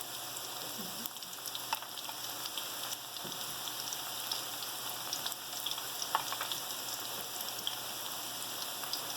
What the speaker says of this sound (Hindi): जैसे जैसे ये फ्राई होंगे वैसे वैसे ही क्रिस्पी होते जाएंगे।